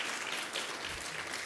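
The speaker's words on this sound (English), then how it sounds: "Give yourselves a round of applause for being here on this day and in this moment" An audience at an Asian American Business Roundtable event claps in a brief, dense, even patter of applause, heard faintly and at a distance.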